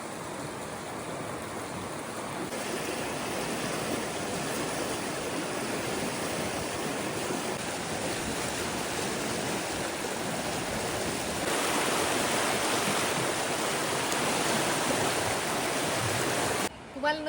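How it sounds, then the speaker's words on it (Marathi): A river near a village temple in rural Kokan, Maharashtra, flows and gurgles in a continuous, fairly close rushing wash that holds steady throughout, with no clear talking over it. "तुम्हाला नदीचा खळखळाट ऐकू येतोय?"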